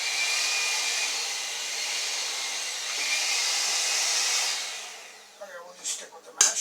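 An electric hand mixer that works poorly whirs with a steady high-pitched motor drone for several seconds, then winds down and stops, followed by a few brief knocks and a voice.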